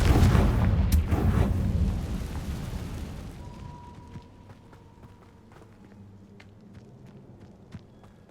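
A Confringo spell explosion in Hogwarts Legacy erupts with a loud, booming blast that rolls and fades away, leaving scattered small crackles and debris sounds behind.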